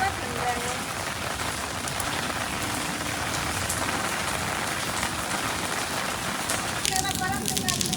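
Heavy monsoon rain pours steadily at a riverside campsite at Mini Kunali, a dense, loud, unbroken hiss with a brief voice surfacing near the end.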